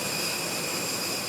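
Steady roar of an airplane jet engine, a continuous broadband whoosh with a high whine running through it, loud and unbroken with no voices.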